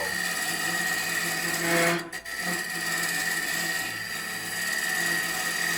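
A Bauer 14x20 EVS wood lathe spins an out-of-round wood blank, giving a loud, steady mechanical whir with rattling tool-on-wood scraping that briefly cuts out for a moment before resuming at full level.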